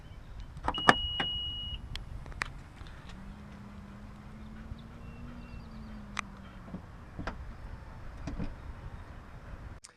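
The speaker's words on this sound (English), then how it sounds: "Closing the gate can be activated with the button." A 2015 Honda CR-V AWD Touring power tailgate closing: a few clicks and a chime, then a steady motor whine over several seconds, ending in latching thuds and clicks, nearby and moderately quiet with no talk.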